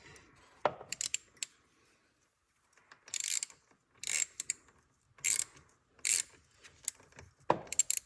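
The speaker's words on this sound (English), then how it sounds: "You just keep loosening it so you can pull the rest of your cable out." A CFMoto ATV winch being loosened as the cable is pulled out, with short bursts of ratcheting, clicking mechanical noise separated by quiet pauses, close by.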